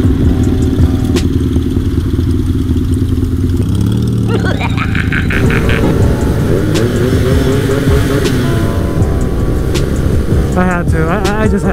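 A BMW R nineT motorcycle rumbles loudly and continuously on a night cruise, with shifting engine tones, wind noise and other vehicle sounds, while people talk over it.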